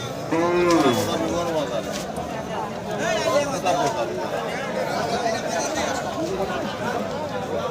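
Cattle moo repeatedly amid a crowded, noisy hubbub of people chattering nearby at a Qurbani livestock market in Boda, Panchagarh, Bangladesh.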